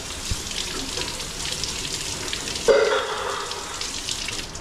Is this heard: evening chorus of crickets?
no